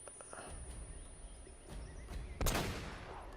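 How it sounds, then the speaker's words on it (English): Gunshots in the Uncharted video game, a few muffled distant cracks followed by one sharper, louder shot near the end amid low jungle ambience. "Oh, I shot him through the tree."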